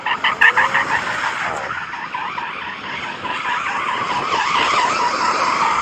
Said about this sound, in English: So we probably need to warm up the tyres a bit.